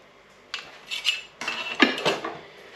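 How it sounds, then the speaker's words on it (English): A utensil cuts into a microwaved golden syrup sponge pudding and lifts a portion onto a plate, giving several close, bright scrapes and clinks of metal on crockery in short bursts. "So let's just cut a little bit of this out. Whack this on a plate here."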